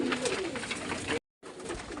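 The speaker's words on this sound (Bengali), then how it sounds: "এই সব পায়রাগুলো খাওয়াচ্ছি" Pigeons coo steadily and close up while being fed in cold weather, a dense low burbling interrupted by a brief silent gap.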